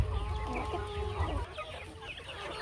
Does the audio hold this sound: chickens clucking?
yes